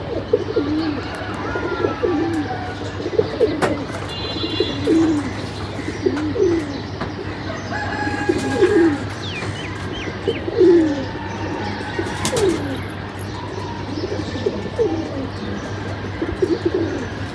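Pigeons returning from a long flight coo repeatedly in soft, rolling calls against a steady low hum and outdoor bustle, with occasional chirps and faint wing sounds scattered throughout.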